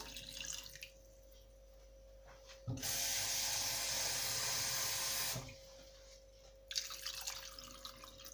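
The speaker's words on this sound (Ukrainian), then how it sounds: "наливаю сюди каструльку і заливаю звичайною питною водою" Drinking water poured from a tap into a pot, a steady broadband rush of running water lasting about three seconds, with quieter drips and splashes before and after.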